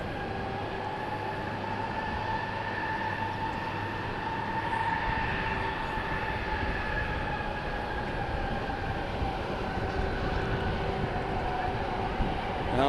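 A heavy airliner rolls along the runway at DFW International Airport, giving a steady, continuous rumble and roar at moderate distance with a faint high whine above it.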